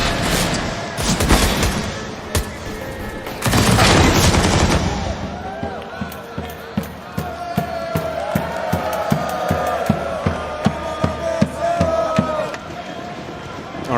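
Rapid gunfire in a Counter-Strike esports match, bursts of loud automatic fire early, then a long run of sharp, evenly spaced single shots while commentators talk over it.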